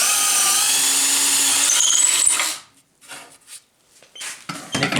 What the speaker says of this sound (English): now I'm going to drill all the way through.